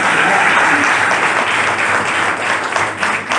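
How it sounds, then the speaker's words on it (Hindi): An audience at a Hindi poetry gathering, a kavi sammelan held at a Brahma Kumaris venue in Ambala, breaks into loud, sustained applause, many hands clapping densely and close, tapering slightly near the end. "एक बार तालियां बजा दीजिए।"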